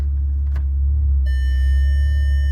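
Over a low engine idle, a sustained electronic tone from a 2016 Maserati Ghibli S parking sensor, set to its lowest volume, starts partway through and holds steadily to the end.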